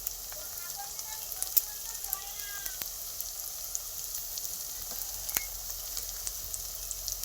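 Country chicken frying in a pan with salt and chilli powder, a soft, steady sizzle carrying on throughout with a few faint clicks of stirring.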